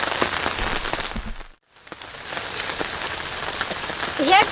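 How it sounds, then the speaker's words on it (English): Rain falls steadily on a campsite, a dense, close hiss that cuts out briefly near the start, then returns. A voice is heard faintly. "Hopefully it doesn't rain too long and too hard"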